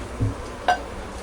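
A lid is set down on a cooking pan of chicken 65 and spicy chicken gravy, giving a soft knock and then one bright metallic clink, fairly quiet against a low background.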